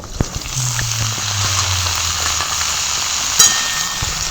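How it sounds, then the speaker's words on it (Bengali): Washed ridge gourd fries in hot oil, giving a steady, moderately loud sizzle with scattered pops and one sharper crackle near the end. Nobody speaks. "ঝিঙেগুলো একটু ভেজে নেবো প্রথমে"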